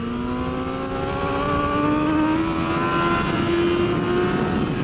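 A BMW S1000RR race motorcycle accelerating hard on the track at Pacific Raceways, its loud engine note climbing steadily in pitch as the revs build over several seconds, heard close from the rider's position without speech.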